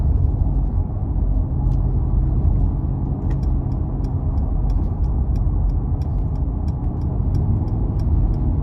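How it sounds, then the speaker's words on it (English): A 2023 Mercedes-Benz G550 4Matic drives in sport mode with paddle shifting, giving a steady, loud low engine and road rumble that fills the cabin, with faint high ticking over it and no talk. "I'm gonna put it into the sport mode, and I'm really gonna see how this thing drives"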